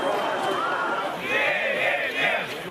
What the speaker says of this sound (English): police charging a crowd.